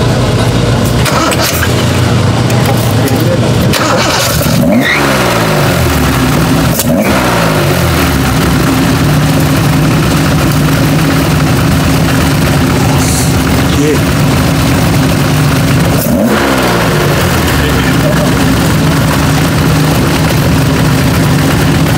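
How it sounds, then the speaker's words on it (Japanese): A Toyota 2000GT straight-six fitted with Solex carburetors cranks over and settles into a loud, rough idle with several sharp revs, heard close in the engine bay while people talk over it. "エンジンをかけていただけるということなんですよ"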